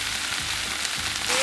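Spicy sauce sizzles loudly as it hits a hot Blackstone griddle with pork belly for chili, a steady crackling hiss that swells slightly toward the end.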